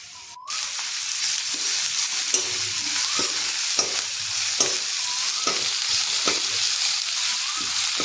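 Ginger garlic paste fries in hot oil in a wok for an Assamese egg curry, giving a steady close sizzle broken by regular scraping strokes as a spoon stirs it.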